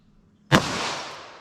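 A single sharp .38 Special gunshot fired into ballistic gel, loud and close, with a sudden onset after near silence and a long ringing decay that fades gradually.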